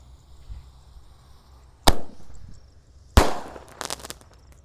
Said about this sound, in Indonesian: Pelontar mini sonic boom langsung kita nyalakan bosku.